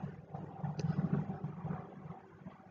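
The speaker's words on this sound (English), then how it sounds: "that's just a helicopter passing over here." A helicopter flying low overhead: a low, rumbling engine drone with a steady rotor-like throb, fairly loud and sustained throughout, with no voices.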